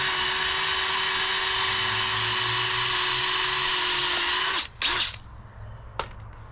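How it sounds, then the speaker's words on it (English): A power drill bores through a wooden board for a DIY soil sifter screen, whining at a steady high pitch for several seconds before winding down, followed by a brief second burst and a short final spin. "I'm going to drill holes through the top and bottom of the board."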